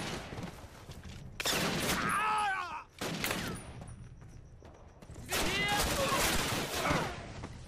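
Automatic rifle fire in Call of Duty, rapid bursts of shots with ringing metallic tails, three bursts separated by short pauses, loud and close.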